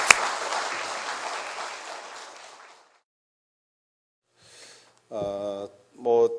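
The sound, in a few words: audience applause welcoming a speaker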